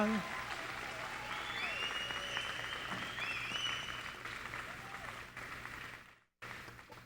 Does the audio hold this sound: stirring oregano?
no